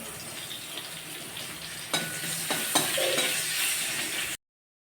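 Curry leaves drop into hot oil where mustard seeds are already sizzling for a cabbage dish, a loud spattering crackle with a few sharp bursts before the sound cuts off abruptly.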